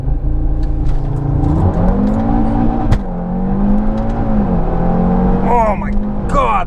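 A tuned 2018 Audi RS3 with APR Stage 1 tune on E85, about 542 hp, pulls hard in manual mode, its engine note climbing through rising revs and upshifts, loud and close from inside the cabin under excited talk.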